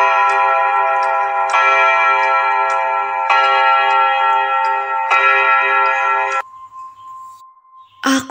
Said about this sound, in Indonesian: Itu bunyi jam dinding tua peninggalan almarhum kakekku.